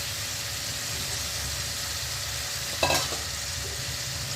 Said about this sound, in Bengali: আলুটা মশলার সাথে ভাজা ভাজা হয়ে যাবে।